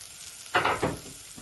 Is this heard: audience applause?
no